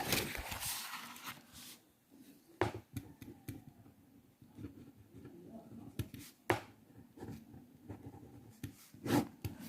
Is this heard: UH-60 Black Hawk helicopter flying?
no